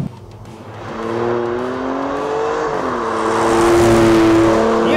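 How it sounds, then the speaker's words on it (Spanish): Alfa Romeo Stelvio Quadrifoglio Verde, a 510 hp all-wheel-drive performance SUV, accelerating hard out of a curve, its engine note rising and building steadily in loudness, with a sustained strong roar and no talk over it. "es muy divertido en las curvas abrir gas a la salida"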